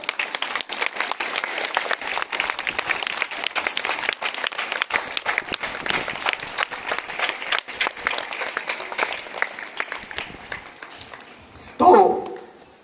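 Prolonged applause from a school audience at a Hindi Pakhwada event, dense rapid clapping that holds steady for about eleven seconds and then fades, with a short burst of voices at the very end.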